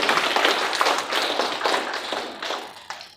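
An audience at a lecture event on international affairs and unification gives a round of applause, a close burst of clapping that gradually thins and fades over a few seconds.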